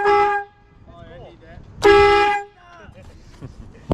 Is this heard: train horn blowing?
yes